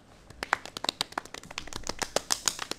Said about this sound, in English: Save your applause for then.